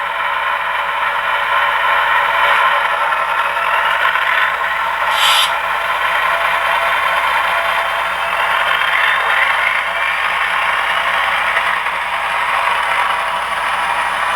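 An HO scale Scaletrains Tier 4 GEVO ET44AC model locomotive notching up, its onboard sound a steady, loud, distorted hiss and rattle of mixed noise with no clear engine rhythm throughout.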